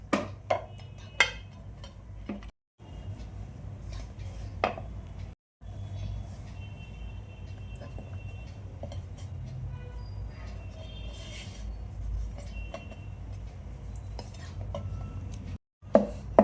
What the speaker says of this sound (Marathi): आता मस्तपैकी चपाती लाटून घेते